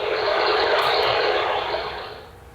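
A synthesized texture built from sparse gammatone spike code functions mixed at varying amplitudes, forming a steady broadband rushing hiss like a distant aircraft, loud and continuous before easing off toward the end, with no voices.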